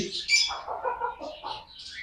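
Small birds chirp and twitter in quick, bright bursts, close by and fairly loud, with no talking.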